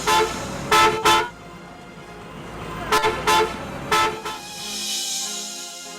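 Car horns honk in road traffic: two short toots, a pause, then three more blasts, loud and close over a low engine rumble that fades near the end.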